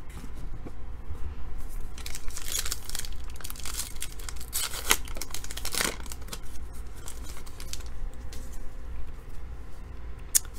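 A 2018 Topps Archives trading card pack wrapper is torn open by hand, giving crisp foil crinkling and sharp ripping bursts up close, with quieter rustling handling between the louder tears.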